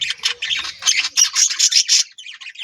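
Pigeons and pigeon chicks call close by, a rapid run of shrill, squeaky squawks and chirps in quick bursts, loud and alone.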